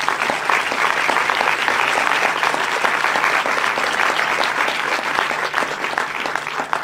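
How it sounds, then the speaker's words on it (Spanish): Audience applause for a film director at a BAFICI 2018 presentation of a film, a dense, steady clapping from a large crowd that fills the whole stretch at an even loudness without talk. "les pido un aplauso para él"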